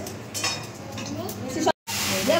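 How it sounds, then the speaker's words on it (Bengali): Small chuno fish fry in hot oil in a pan, a close, steady sizzle with stirring clinks and a voice heard faintly alongside, briefly cut to silence before resuming. "এদিকে দেখো চুনো মাছ ভাজা হচ্ছে"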